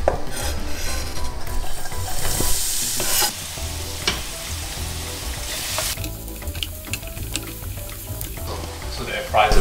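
Risotto rice fries and sizzles steadily in a non-stick pan, with close stirring scrapes and a few sharp utensil clicks over a continuous hiss, louder in the first few seconds.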